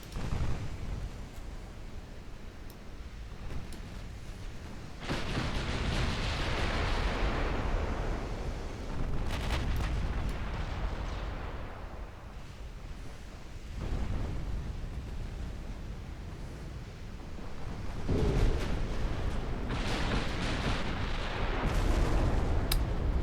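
Torpedo explosions in the naval strategy game Just A Little War, heard as several heavy, booming blasts that roll on with long rumbling tails, loud and close, with no talk over them.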